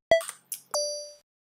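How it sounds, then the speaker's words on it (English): A Nanoloop 2.8.2 synth running on a Game Boy plays a few quiet, bell-like FM pings: short bright blips, then one longer sustained ringing tone that stops cleanly, with silence between the notes. "it has a very distinct bell FM"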